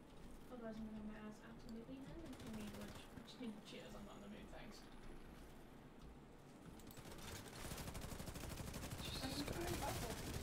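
Gunfire rattles in a video game, rapid bursts like a machine gun at moderate distance, growing denser toward the end, mixed under talking and low game sounds.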